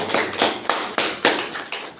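Sharp claps ring out in a steady rhythm at a business presentation, about eight distinct hits in two seconds. They are close and crisp, like a small group clapping together rather than a large roaring audience.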